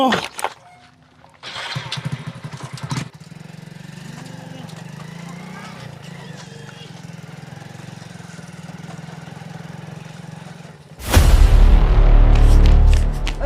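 A police motorcycle is kicked into life and idles with a steady, buzzing engine note while voices talk over it, then the engine suddenly roars loud and close as the bike is ridden off.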